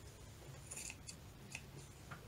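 Scissors snip through a small piece of lace, quiet and close, with several short crisp cuts in quick succession.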